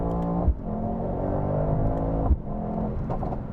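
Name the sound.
Mercedes-AMG GT63 engine revving on downshift in sport mode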